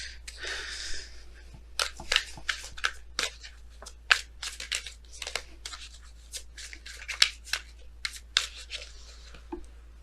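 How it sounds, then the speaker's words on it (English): Romance angels oracle cards being shuffled by hand, close and quiet, giving irregular bursts of crisp riffling and slapping across the whole stretch, with no talk. "Let's go ahead and pull your romance angels cards for today,"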